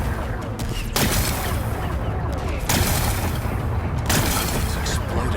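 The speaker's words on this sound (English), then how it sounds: "It's exploding." Rock-blasting explosions in Horizon Forbidden West, a loud continuous rumbling blast with several sharp bursts roughly every one and a half seconds, and a voice speaking over it.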